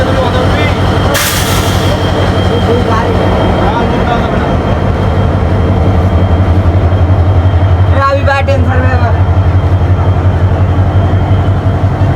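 A Hyundai Rotem locomotive rumbles steadily nearby at a railway station with a deep, continuous drone, a brief burst of noise early on and people talking over it.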